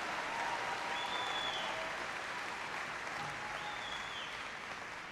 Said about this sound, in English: I want you to applaud them anyway